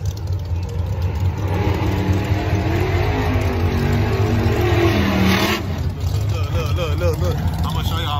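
Race cars speeding around a track in Florida, a loud, continuous engine roar with a passing surge, while people talk over it close by.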